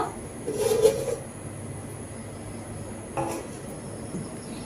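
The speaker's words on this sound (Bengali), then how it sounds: "ব্যাটারের এই পাত্রটি কড়াইয়ের মধ্যে বসিয়ে দিচ্ছি।" A clattery metal knock as a bowl of semolina batter is set down into a metal wok holding hot water, one clear clink near the start and a fainter tap later, over a quiet kitchen hum.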